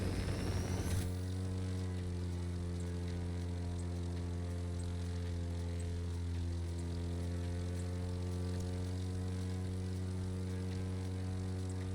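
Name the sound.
single-propeller stunt plane flying in video game The Crew 2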